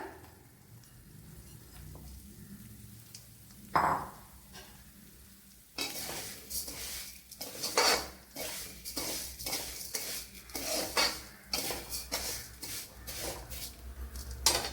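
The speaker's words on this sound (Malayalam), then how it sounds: "ഇതിലേക്ക് ഇനി ഈ വറുത്ത സേമിയ ഇട്ട് കൊടുക്കാം." Roasted vermicelli tipped into a pan and stirred for a sweet semiya pradhaman, with a soft thump, then steady scraping and clinking of a spoon against the pan alongside a light sizzle, close and moderately loud.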